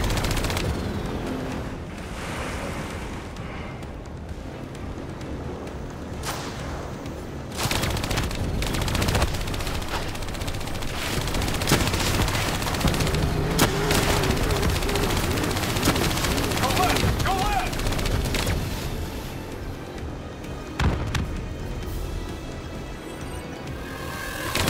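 Heavy vehicle-mounted turret fire in Call of Duty Black Ops 3, sustained loud machine-gun bursts mixed with explosions and a rumbling engine, with talking over the battle.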